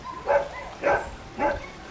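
Three evenly spaced dog barks, fairly close and moderately loud, from a dog set loose by shouting women in a legend told beside an old village wash house in Josselin.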